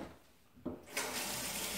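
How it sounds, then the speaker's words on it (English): Tap water rushes into a bowl, starting with a brief splash after a short quiet moment and then settling into a steady, close, continuous stream. "let me put some water in this bowl"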